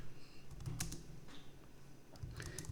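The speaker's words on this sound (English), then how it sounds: "So I'll just start typing here" Typing on a computer keyboard: light, irregular clicks and short bursts of keystrokes over a quiet background, with no voice.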